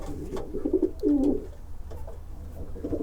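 Racing pigeons coo in a loft, a few soft throaty rolling calls close by, with quieter background rustle and no talk.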